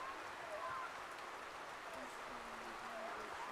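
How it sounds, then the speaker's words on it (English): Heavy rain pours down on an outdoor soccer field during a women's college match, a steady, dense hiss filling the whole clip with no break. "I think it's raining harder over on that side of the field"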